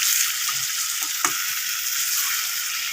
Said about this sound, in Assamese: মোৰ 10 মিনিটমান মই মছলাখিনিৰ লগত কঁঠালখিনি ভাজি ল'লোঁ।